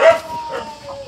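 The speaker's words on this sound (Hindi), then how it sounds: "कुत्ते इतना ज़्यादा क्यों भौंक रहे हैं?" Village dogs bark and yip, a short bout of yelping calls rising and falling over about a second, mixed with voices nearby.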